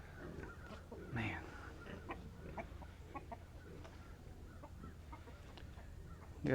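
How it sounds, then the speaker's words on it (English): A couple of stray chickens on a farm cluck softly and intermittently in the open, faint and scattered against quiet background noise. "We got a couple scraggler chickens out here."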